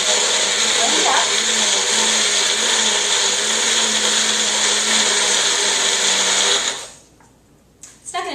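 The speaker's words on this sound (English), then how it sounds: "Okay, now we're going to blend" A countertop blender, a Magic Bullet or similar, whirs loudly and steadily as it grinds sunflower seeds and nutritional yeast, running for about seven seconds before cutting off abruptly into quiet.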